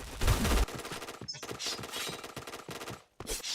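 Rapid automatic gunfire from the shooter game Point Blank crackles in quick rhythmic bursts, with short gaps between volleys, loud and close, with no talking over it.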